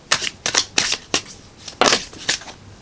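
Tarot cards riffled and shuffled by hand in a few quick bursts, crisp papery flutters separated by short pauses, close and fairly quiet.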